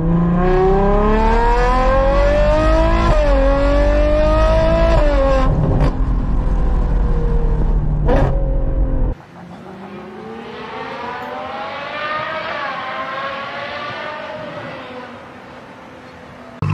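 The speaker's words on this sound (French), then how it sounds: "quand tu mets la voiture en mode sport comme elle est maintenant, tu mets des petits coups de gaz" A Lamborghini Urus in sport mode in Dubai gets short blips of throttle, its rising and falling engine note loud and close, with a sharp sweep near the middle and a steadier, quieter hum afterward.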